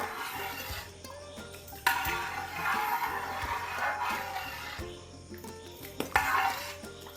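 Jackfruit and jaggery being stirred in a pan for jackfruit halwa, with a spoon scraping and clinking against the metal over a soft sizzle, bursts of louder stirring strokes coming and going.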